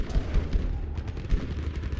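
Artillery barrage and gunfire in the World War II shooter Battlefield V, with heavy booming blasts and rattling shots thudding steadily and continuously through the whole stretch, loud and close.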